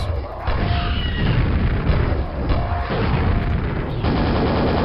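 Grenade blasts in the shooter game Quake, heard as a run of loud, overlapping booms and bursts that follow one another over a few seconds of steady combat noise.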